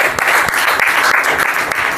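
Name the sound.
congregation clapping in church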